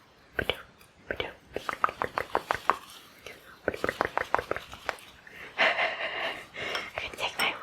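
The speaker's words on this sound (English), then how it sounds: "I'm gonna tap it to get all the bubbles out." A soap mold is tapped against a surface to release air bubbles, two runs of quick, evenly spaced close knocks in a steady rhythm. A soft, breathy ASMR voice is heard faintly between the runs.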